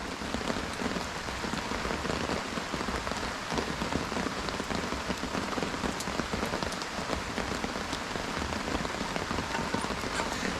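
Steady rain falling on and around an old mill lake during a fishing session, a dense, even hiss of drops with scattered closer patters, continuous and unbroken with no voices.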